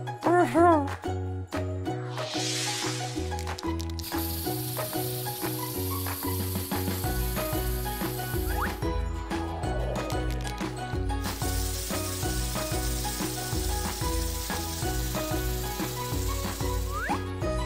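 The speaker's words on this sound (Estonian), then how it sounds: "Punane spreivärv! Hea idee!" Red spray paint hisses from a can in a cartoon video game, bright sustained sprays bursting over a bouncy musical score with jingling accents, some sprays longer than others.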